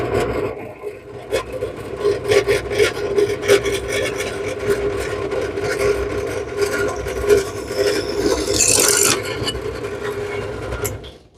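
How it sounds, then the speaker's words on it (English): A drill press motor whirs steadily with a grinding, scraping bite as the bit cuts into metal tubing, with a brief hissy rasp near the end. "We'll just drill us a quickie hole."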